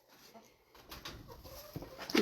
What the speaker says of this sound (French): Là, on va aller voir les petits poulets.